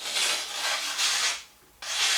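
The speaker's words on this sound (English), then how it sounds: "you can just real lightly run the file down the edge" A file is run lightly down a metal edge to remove a burr on an RV-10 vertical stabilizer part, making four smooth rasping strokes with a short pause before the last.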